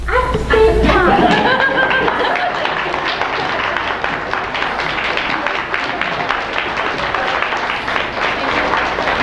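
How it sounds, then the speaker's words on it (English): Parents at a fifth-grade school assembly give a standing ovation, and a dense wash of clapping carries on throughout, mixed with chatter and scattered laughter from the crowd. "Standing and clapping at the same time."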